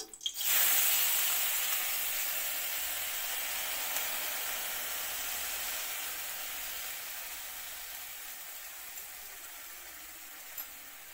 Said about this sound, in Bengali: তেলটা ভালো করে গরম হয়ে গেছে, এবার ভিজানো মুগ ডালগুলো দিয়ে দিলাম